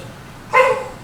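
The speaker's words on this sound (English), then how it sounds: "Sorry about the dog." A dog lets out a single short bark at moderate distance, sudden and fairly loud against a quiet room background.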